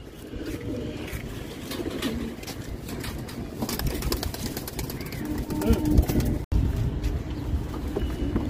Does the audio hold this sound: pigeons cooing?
yes